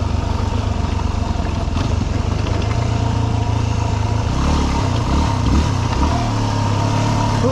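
A dirt bike engine idles roughly on a mountain trail descending Imogene Pass in Colorado, then revs up partway through, its pitch rising and wavering, loud and close with no talking.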